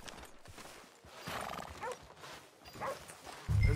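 Horse hooves clip-clopping and a whinny in the Western video game Red Dead Redemption 2, faint rhythmic hoof steps with a brief neigh, quiet game ambience around, no speech over it.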